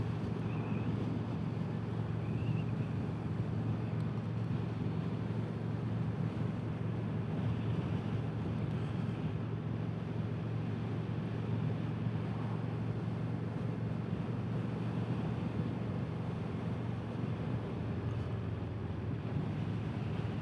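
A 2025 Indian Scout Bobber motorcycle cruising at 2,600 RPM, a steady low engine drone blended with heavy wind rush, even and unbroken throughout.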